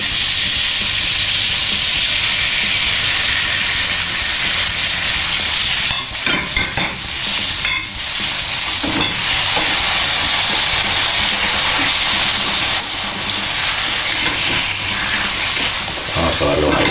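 Bell peppers tossed into garlic frying in oil in a pan for spaghetti with colored peppers and goat cheese: a loud, steady sizzle and hiss throughout, with stirring bumps partway through.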